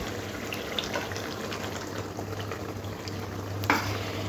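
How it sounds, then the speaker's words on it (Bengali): Chicken is stirred in a pan for a yogurt and black pepper chicken dish: a soft, continuous sizzle with light scrapes and a sharper clink toward the end, over a low steady hum, with no talking. "একটু চিকেনটাকে ভালো করে একটু নেড়ে নেব।"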